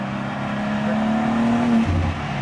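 2023 BMW M2 G87 accelerating hard from a rolling start beside a wall on a scenic road, the engine note rising steadily in pitch, then dropping briefly as it shifts, heard from inside the car.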